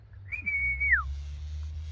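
A single person's whistle calls a dog back: one clear, steady, high note held for about half a second and then sliding down, close by over a low background hum.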